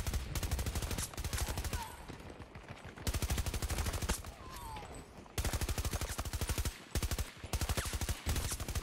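A max-upgraded LMG in a video game fires in long, rapid, rattling bursts of machine-gun fire, separated by short pauses. The shots are distinct and evenly spaced but sound fairly distant and moderate in level.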